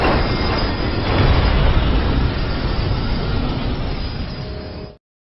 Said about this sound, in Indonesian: melihat ada kereta yang terbakar dan menabrak keretanya yang tadi